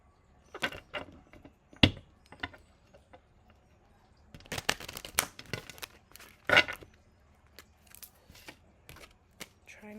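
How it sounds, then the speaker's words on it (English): Tarot cards being shuffled by hand, irregular papery riffles and snaps scattered across the stretch, close and fairly quiet, with no voices over them. "All right, let's do one more shuffle."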